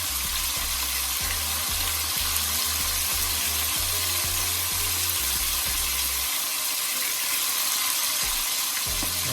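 Jamaican brown stew chicken pieces fry in a pot under a dense, constant sizzle, with low knocking and scraping as the meat is moved around at the start and no voices.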